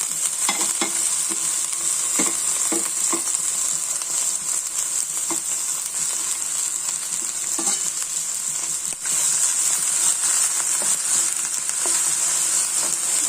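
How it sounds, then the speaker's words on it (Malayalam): Steady sizzling of okra and green chilies frying in hot oil, with intermittent scraping and stirring sounds over the continuous hiss. "വെണ്ടയ്ക്കയും പച്ചമുളക് ഇടുവാണേ ഇത് വറുത്തെടുക്കാം"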